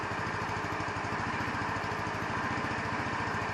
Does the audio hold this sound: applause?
no